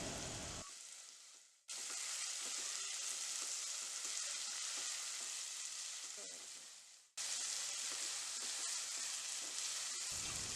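Tomatoes for upma sauté in a hot pan with a steady, close sizzle and occasional stirring scrapes, briefly dropping out twice before resuming at full strength.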